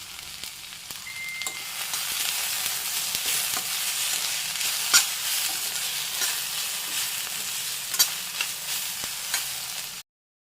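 A salted mixture for paneer masala fries in a pan with a constant bright sizzle, broken by a few soft stirring knocks, then stops abruptly.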